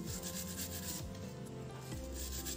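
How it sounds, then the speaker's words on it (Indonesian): A hand brush scrubbing hard, crusty water scale off the outside of a water filter, steady back-and-forth rubbing strokes, close and fairly quiet with no talking. "jadi kita harus sikat manual di bagian luarnya agar benar-benar putih bersih"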